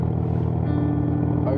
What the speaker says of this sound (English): I'm going to show you what the valves are open and closed and how it sounds like